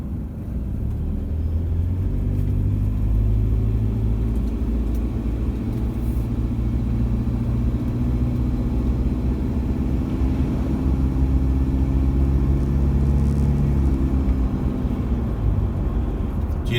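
A Toyota 1KD diesel engine idles warm with a steady low rumble and an even mechanical rattle. It stays close and constant throughout, with no talking.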